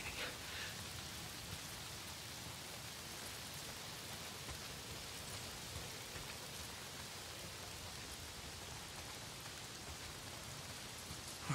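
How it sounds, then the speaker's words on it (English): Steady rain in the video game Days Gone, a dense even hiss of falling drops that fills the scene continuously, moderately loud and unbroken, with no voices over it. "If it's not the freaks, it's the goddamn rain."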